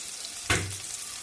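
Spices and chili powder hit hot oil for a Bengali aar fish kaliya curry, giving one sudden loud sizzle that swells and then fades into a steady softer fry.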